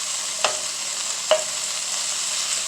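Sofrito is stirred in a rice pot over a steady, fairly loud sizzle, with two distinct scrapes of the spoon against the pot a second apart and no talking.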